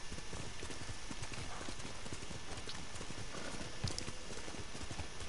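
Horse hooves clip-clopping at a steady trot in the video game Ghost of Tsushima, a continuous rhythmic patter over ambient game sound, moderately loud with one brief sharper knock near the end.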